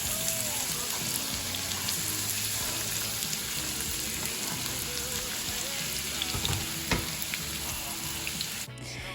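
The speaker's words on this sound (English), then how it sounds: "In here I have some oil heating up to fry my onions" Onions sizzle and crackle steadily in hot oil in a home kitchen pan for a budget family lentil stew, a dense close frying hiss with a few louder pops, no one talking.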